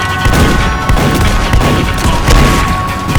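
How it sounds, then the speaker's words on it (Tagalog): A zombie fires a gun in the Roblox game Dead Rails amid loud, dense in-game combat, with rapid overlapping shots and booms forming a continuous, harsh barrage. "Marunong bumaril yung zombie oh."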